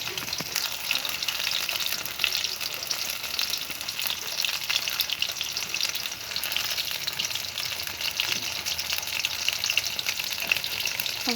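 Vegetables frying in a pan make a constant bright hiss and crackle close up, with occasional soft stirring scrapes and no voices.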